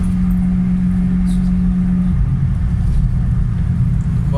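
Volvo 240 with a stainless steel exhaust at constant revs around 3000 rpm, a steady low droning rumble with a sustained tone that fades partway through, heard from inside the car without talk.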